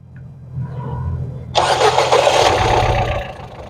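A Ford Figo car engine with a misfire problem cranks briefly and then catches, starting up loudly close by and settling into a rough, steady running roar for the remaining couple of seconds.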